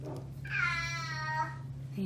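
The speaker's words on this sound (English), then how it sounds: "You hear my cat." A pet cat meowing once indoors, a drawn-out tonal meow of about a second over a steady low hum.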